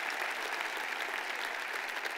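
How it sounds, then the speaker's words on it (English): Steady applause from a church congregation, fairly soft and continuous with no pauses, clapping for the volunteers who serve during worship. "can we just give them a round of applause"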